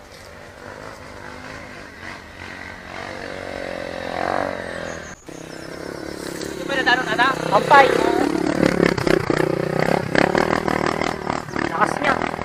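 Motorcycles on a mountain trail at Mt. Paldingan, Binalonan, Pangasinan, engine drone growing louder and more buzzy in the second half, close, under voices talking throughout.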